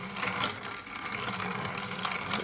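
A grain grinder mills whole flaxseed into flour with a loud, continuous whirring drone that stays steady throughout without pause.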